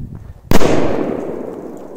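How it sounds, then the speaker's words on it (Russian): Powerful firecrackers explode beneath a white bowl, one sharp loud bang after a brief quiet lead-in, followed by a long noisy rumbling decay. "С мощными петардами."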